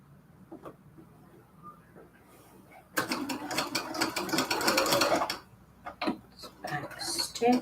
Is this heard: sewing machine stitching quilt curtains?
yes